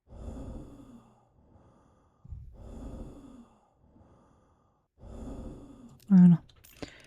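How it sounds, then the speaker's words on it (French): Normal breathing of a character in a zombie survival video game, three slow soft breath cycles spaced evenly apart, fairly quiet, followed by a brief louder sharp tone near the end. "C'est la respiration normale."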